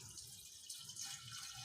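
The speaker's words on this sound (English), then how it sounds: "we'll take this ceramic vessel, pour this juice into this vessel" Beetroot juice is poured into a ceramic vessel during home wine making, a faint, steady trickle and patter of liquid lasting a couple of seconds, with no voices.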